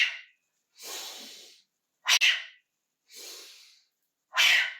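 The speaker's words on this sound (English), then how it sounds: "And we'll have an exhale out of the mouth." Breaths forcefully exhaled through the mouth during a yoga class, several separate whooshing breaths spaced about a second apart, close and fairly loud, no talking.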